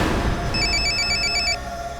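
A telephone bell rings in rapid repeated trills for about a second, heard over a murky background with no speech.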